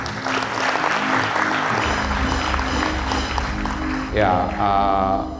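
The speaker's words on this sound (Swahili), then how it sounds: "Naomba tuwapigie makofi." An audience at a personal finance talk breaks into steady applause with music playing underneath, and a voice begins speaking over the clapping near the end.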